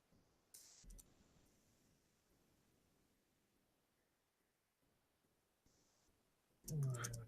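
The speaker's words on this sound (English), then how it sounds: "I hate it when I'm typing in Arabic." Sparse keyboard clicks at a quiet level while typing in Arabic on a computer keyboard, with a brief louder clatter of keys near the end; no talking.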